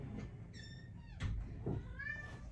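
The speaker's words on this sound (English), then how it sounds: "my cat Gina has decided to join us for the moment." A house cat meows indoors, two or three short faint cries close by, separated by a couple of soft thumps.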